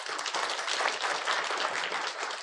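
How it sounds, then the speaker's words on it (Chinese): A church congregation applauds at a Sunday worship service, a dense, steady wash of clapping from many hands that carries on evenly throughout, a little distant and with no talking. "那我们用掌声将荣耀归给神。"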